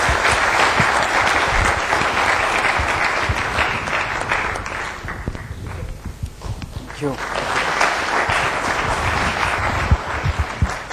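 Lecture-hall audience applauding after a talk on aerial robot swarms, a loud, sustained roar of clapping that dips briefly in the middle before swelling again, with voices mixed in.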